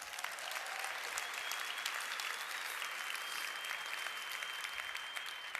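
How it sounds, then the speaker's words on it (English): An audience applauds steadily and densely for the whole stretch, the clapping fairly loud and even with no voices standing out. "Give them a round of applause. Tell them thanks."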